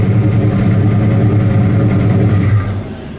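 A 1961 Pontiac Catalina with a custom dual exhaust idles close by, its steady, deep, rumbling burble holding even throughout and easing slightly near the end, with no talking.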